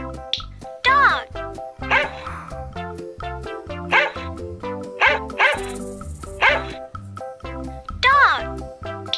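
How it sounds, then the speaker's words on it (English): A dog barks repeatedly in a steady run of sharp, close barks and yips, about six to seven bursts spread evenly, over a light musical backing. "Dog."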